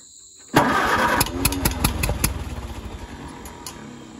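Old tractor engine cranking as it tries to start: a sudden loud burst, then a rapid run of uneven chugging pulses that gradually weaken without catching.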